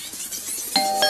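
A doorbell in a home chimes in two short, bright tones near the end, ringing out clearly over faint room noise.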